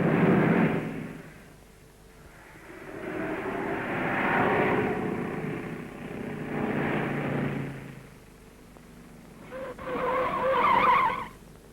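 A Standard rally car from the 1950s–60s skids to a stop at the end of a timed rally test, with a long, rough engine and tyre roar swelling and fading, then a sharper squeal toward the end.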